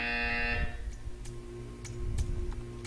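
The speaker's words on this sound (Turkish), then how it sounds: "When you hear the buzzer, stare at the art." A harsh electronic buzzer from the video game Portal 2 sounds for about half a second, then gives way to a low steady hum with faint scattered ticks.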